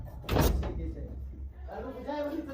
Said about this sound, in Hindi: दरवाजा खोल लो छत्ती में